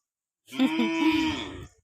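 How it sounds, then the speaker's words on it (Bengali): A cow gives a single loud, close moo lasting over a second, rising and falling against a quiet background. "এদিকে গরু হামলাচ্ছে"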